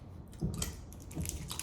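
Peppermint gum from a Lithuanian military ration is chewed close up, giving a few soft, wet crunches in an uneven rhythm with no talk.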